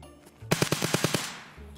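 Rapid burst of about eight gunshots in an Escape from Tarkov-style shooter on the Interchange map, sharp evenly spaced cracks over roughly three-quarters of a second, close and loud, trailing into a brief echo.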